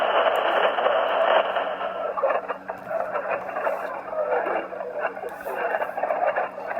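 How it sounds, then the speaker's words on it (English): Steady hiss of radio static from a Yaesu FT-991A HF transceiver, loud and close, with faint crackles and fluctuating noise running continuously throughout. "You hear the static now."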